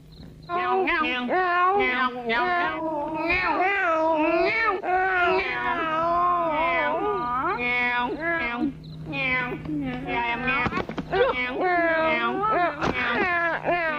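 Two people trade drawn-out, wavering meows back and forth, voices imitating cats in a rising and falling duet, close and fairly loud.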